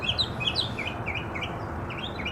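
A small bird chirps repeatedly at daybreak, quick bright tweets in a steady series over a soft, constant outdoor background hum.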